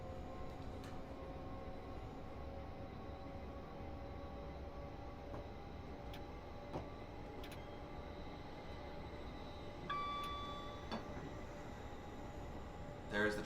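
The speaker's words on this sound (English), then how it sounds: "There's the train I said to keep an ear out for" A train passes on a busy line near Clapham Junction in a London to Brighton train simulator game, a quiet steady rumble with faint tonal whines and a brief swell toward the end.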